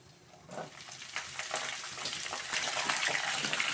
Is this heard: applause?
no